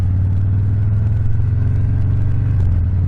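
Harley-Davidson Softail Fat Bob V-twin idling through S&S Grand National mufflers repacked with stainless steel packing, a close, deep, loping rumble with a steady uneven pulse, no talk.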